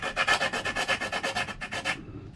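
Sandpaper glued to an ice-cream stick rubs back and forth across a laser-cut wooden part of an RC tugboat kit, about a dozen quick, even rasping strokes up close, ending in near silence.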